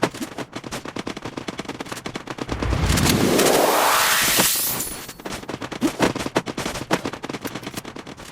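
Rapid automatic gunfire from a shooting video game rattles in dense, loud bursts, broken midway by a rising whoosh or explosion sweep before the firing resumes.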